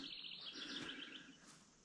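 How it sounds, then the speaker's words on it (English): Outdoors in the Upper Nish habitat area of Shelby County, Iowa, birds chirp and tweet in quick, faint, overlapping calls, with no talking. "There's lots of birds out here."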